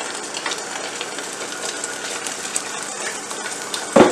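Pizza batter frying in a pan for a no-oven pizza, a steady soft sizzle running throughout, close up, with a brief louder clatter right at the end.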